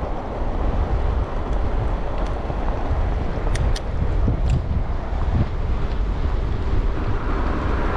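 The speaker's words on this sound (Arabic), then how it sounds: "كاين الريح هنا بزاف اقدر ما تسمعش الكاميرا بزاف ولكن راه كاين الريح هنا" Strong wind gusting off the sea buffets the camera microphone on a street, a loud, steady roar with low rumbling blasts that runs through the whole stretch.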